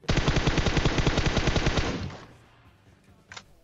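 A Vector submachine gun in PUBG Mobile fires one loud, rapid, evenly spaced burst lasting about two seconds, then cuts off, leaving a quiet tail and one faint later shot.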